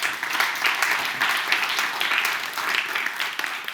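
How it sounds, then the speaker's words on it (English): An audience at a power grid technical meetup applauds presenters, a brief, steady burst of many hands clapping that swells and eases slightly over a few seconds. "Let's give them one final applause."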